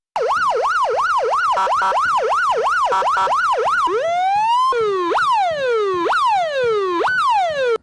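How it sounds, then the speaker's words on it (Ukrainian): A loud electronic police siren wails in a rapid repeating yelp, then shifts into slower rising and falling sweeps, continuous and close. "увімкнути сирени патрульної поліцейської автівки"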